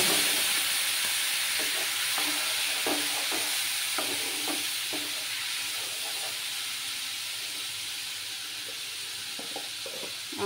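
Cumin powder hits a hot pan and sizzles with a steady, loud hiss while a spoon stirs and scrapes in irregular strokes, close up, with no voices over it.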